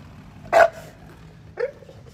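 A dog gives two sharp barks about a second apart, close and loud against a quiet indoor background.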